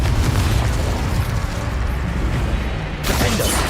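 A Bombarda explosion spell goes off in Hogwarts Legacy during a final boss battle: a sustained, loud, rumbling blast with heavy low boom, followed by a fresh burst near the end.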